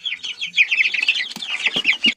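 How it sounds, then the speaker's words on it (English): Bantam chickens on a farm, roosters and hens, clucking and chattering close by in a dense, continuous run of short overlapping calls, with a few sharper squawks toward the end. "we definitely have 2 roosters and 2 hens"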